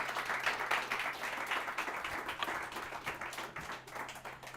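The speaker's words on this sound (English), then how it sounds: "So let's give him a round of applause." Audience applause for a guest after a Bitcoin event talk, many hands clapping in a steady faint wash that carries on throughout with a low hum beneath.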